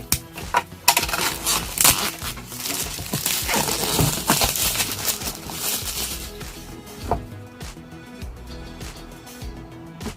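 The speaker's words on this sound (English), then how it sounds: "So cutting through the cellophane wrapping," Cellophane wrapping being cut open on a Google Stadia Premiere Edition box: loud, close crinkling and crackling for several seconds, then fading to softer rustles.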